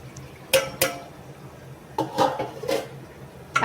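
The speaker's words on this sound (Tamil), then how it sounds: "அடுத்ததுமா தக்காளி போடுறேங்க" Chopped tomatoes dropped into a pan for a large batch of chicken biryani, a few distinct metallic clanks and scrapes of utensil against cookware separated by quiet gaps.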